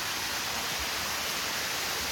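A waterfall pours down from above at an outdoor viewpoint, a steady broadband roar of falling water filling the clip without pause, close and even.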